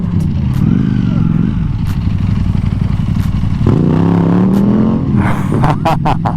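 A loud Ducati Panigale V4S motorcycle roars past, its engine note rising and sweeping through the pass over a constant road rumble, with a few sharp clatters near the end.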